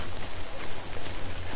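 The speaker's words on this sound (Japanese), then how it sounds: "ちょっと雨足が強くなってきましたね" Steady rain falls in the game Death Stranding as the downpour grows heavier, a dense even hiss of drops spread across the whole clip with no voices.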